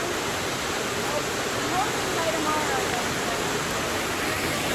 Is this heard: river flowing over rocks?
yes